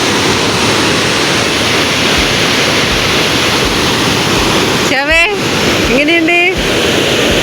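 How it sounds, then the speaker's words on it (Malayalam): Athirappalli waterfall in Thrissur roaring as a loud, constant broadband rush that fills the whole stretch, with brief voices shouting over it toward the end. "വെള്ളച്ചാട്ടം എന്ന് പറഞ്ഞാൽ ഒന്നൊന്നര വെള്ളച്ചാട്ടം തന്നെയാണ്"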